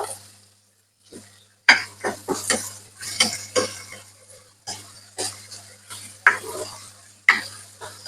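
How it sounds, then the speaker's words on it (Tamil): Onions stirred and sautéed in a pan while cooking tomato rice, a series of close scraping strokes with light sizzle between brief pauses, heard alone. "இப்போ வெங்காயம் வந்து நல்ல கோல்ட் கலர்ல நாங்கள் வதங்க விடணும்"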